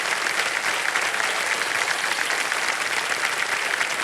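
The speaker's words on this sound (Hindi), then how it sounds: "तालियां बजती ना।" The studio audience of the Kaun Banega Crorepati TV quiz show claps in a steady, uniform burst of applause, many hands together at a moderate level with no break for its few seconds.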